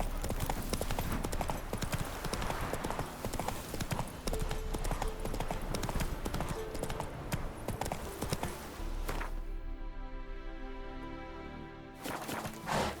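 Horse hooves clip-clop steadily in The Witcher 3 video game, a continuous rhythmic trot carrying on over busy background sound throughout.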